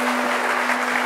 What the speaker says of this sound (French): sous vos applaudissements, cher public.